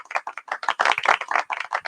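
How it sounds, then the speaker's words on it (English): Golf clap at a casual happy hour gathering, a run of soft, rapid, light claps close by, lasting under two seconds, with no talking. "Here's your golf clap."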